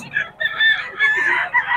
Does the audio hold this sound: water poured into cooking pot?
no